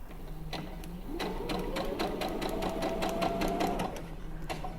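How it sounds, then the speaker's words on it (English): A sewing machine stitches a garment neckline, sounding as a near, rapid and steady needle clatter that starts after a few single clicks, runs evenly, then stops, with no talking. "we're going to back stitch"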